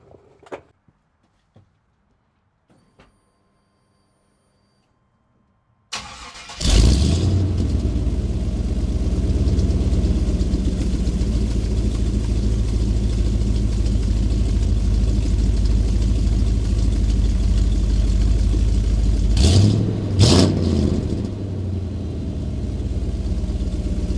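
Chevy 454 big-block engine in an older pickup tow rig, a few faint clicks and then a loud start, settling into a steady close rumbling idle with a sharp rev climbing and falling near the end.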